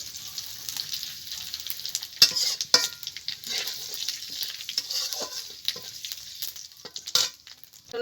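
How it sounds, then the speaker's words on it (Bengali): Dried red chillies, bay leaf and whole cumin tempering in hot oil for a bottle gourd and prawn curry, with a steady close sizzle and occasional scraping stirs and clinks of a spoon against the pan. "ফোড়নে দিচ্ছি শুকনো লঙ্কা, দিয়ে দেবো তেজপাতা, দিয়ে দেবো গোটা জিরে"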